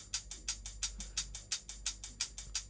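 A crisp, bright drum and bass hi-hat ticks in a steady, unchanging loop, roughly four even hits per second with identical decays, sounding mechanical and flat.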